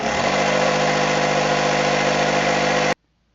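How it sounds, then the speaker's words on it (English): Inflation pump for a paddle board running on its dual-stage higher-pressure motor, a steady, loud, close mechanical drone that holds evenly for about three seconds and then cuts off abruptly into silence. "Once that's kicked over to the higher pressure motor that you just heard"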